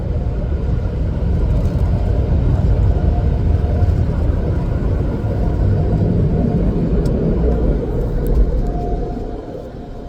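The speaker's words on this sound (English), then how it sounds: "We're almost to the end of the car wash because this is kind of noisy." Steady, loud mechanical rumble of car wash machinery surrounds a vehicle passing through an automated car wash, continuous for several seconds before easing slightly at the end.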